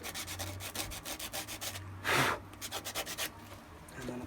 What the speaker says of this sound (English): I'm going to run it over some sandpaper just to smooth it out a little bit